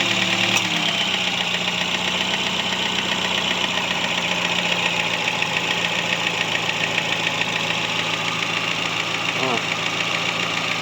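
A steady engine idles close by after a timing chain replacement and valve adjustment, a continuous mechanical hum with a faint rhythmic knock and a brief click near the start, no voices.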